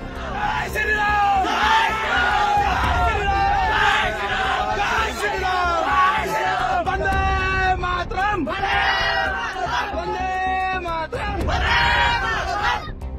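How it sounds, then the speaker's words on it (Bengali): Crowds of local villagers at the India–Bangladesh border chanting slogans: many voices shouting in rhythmic, repeated bursts, loud and sustained, with general crowd noise underneath. "দুপ্রান্ত থেকে উঠল স্লোগান।"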